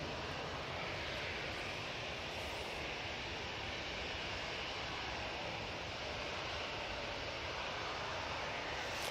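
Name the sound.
Ryanair jet touching down on landing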